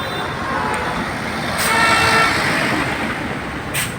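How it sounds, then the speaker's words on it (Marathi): Congested road in a traffic jam with cars and trucks, a continuous rumble of idling engines and roadway noise broken by a few horn toots. "पूर्णपणे ट्रॉफिक अडकली आहे."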